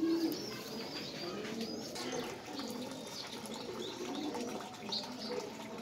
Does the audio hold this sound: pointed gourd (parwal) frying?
no